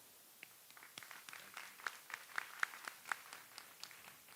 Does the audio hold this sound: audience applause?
yes